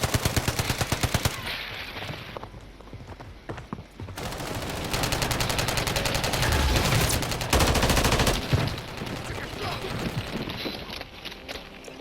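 Bursts of automatic gunfire in the video game Call of Duty: Warzone, loud and close, firing in rapid volleys with brief pauses, mixed with game noise and intermittent voices talking.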